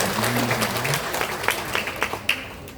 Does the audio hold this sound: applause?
yes